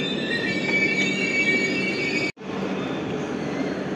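A Humsafar Express train pulls away from a station with a steady rumbling roll and squealing wheels, interrupted by a brief dropout before the train noise resumes.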